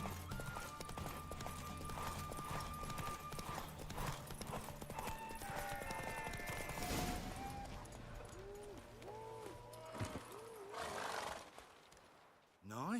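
Roach, the horse in The Witcher 3, gallops in a steady clip-clop of hooves under game music and effects, with occasional neighs and a voice talking over it.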